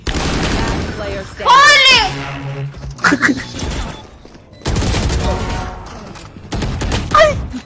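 Video game gunfire crackling in quick bursts amid loud, excited commentary and shouting, with several sharp volleys spread through the clip.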